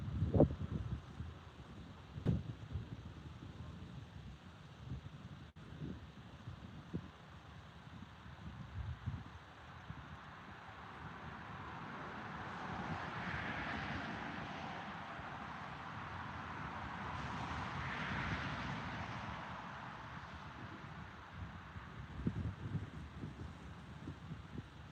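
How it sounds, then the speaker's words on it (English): Wind gusts sweep across open water during a fishing session in Ontario, a low rushing that swells and fades over the whole stretch, with a few soft knocks near the start and no talking. "That wind's rolling in pretty good now"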